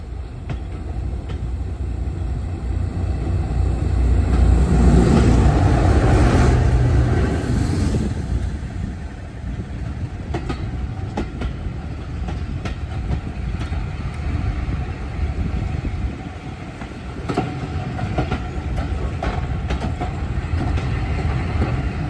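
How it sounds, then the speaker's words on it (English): A Class 37 diesel locomotive on the Great Central heritage railway hauls a train past toward Loughborough, a loud steady rumble and rolling clatter of wagons swelling near and holding for over twenty seconds. "we were passed by a Class 37 hauling another train on its way back to Loughborough"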